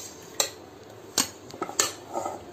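A spoon clinks against a bowl while semolina, salt, potato and black pepper are mixed together, three sharp metallic taps with softer scraping between them, close and alone.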